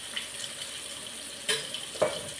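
Spoon stirring a salted pepper, cumin, chilli, garlic and tomato mixture for rasam in a pan, a soft sizzling bed with a couple of brief scraping strokes, close and alone without talk.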